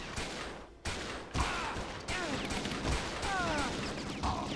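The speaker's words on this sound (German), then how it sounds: "ich schieße ihn dreimal in die Brust und der überlebt das" Gunfire in the shooter game XIII comes as a few loud, broadband shots and bursts over dense, continuous game noise, with sharp attacks near the start and middle of the clip.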